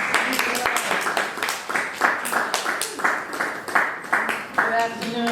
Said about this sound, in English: All right, everybody clap it up for Miss Keisha.